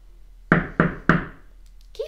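Three firm knocks on a wooden door, evenly spaced and close, ringing out alone in a quiet room, followed by a soft short sound.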